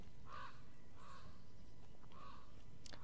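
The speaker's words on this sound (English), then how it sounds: "That freaking bird." Three harsh crow caws spaced about a second apart inside the video game Master Reboot, moderately faint over a low background hum, with no talking.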